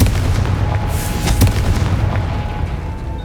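A Confringo fire spell explodes in the Hogwarts Legacy video game, producing a dense, booming blast that rumbles on throughout with a few sharper bursts and no talk over it.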